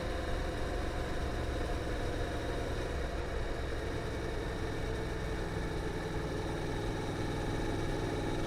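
Honda DCT motorcycle engine pulling hard in fifth and sixth gear while overtaking a car, a steady droning hum with wind rush, constant and fairly loud throughout.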